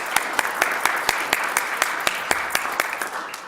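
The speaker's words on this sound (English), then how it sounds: "So I'd like to give them a round of applause." Audience applause at a university law association event, a steady crackle of many hands clapping with sharp individual claps standing out, continuous and fairly loud throughout.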